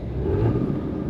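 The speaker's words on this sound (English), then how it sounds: "if we hear the exhaust a little bit here" Exhaust of a 2020 Audi SQ5 Prestige V6 revving, a short steady low rumble with a rising whir, close and alone with no talk.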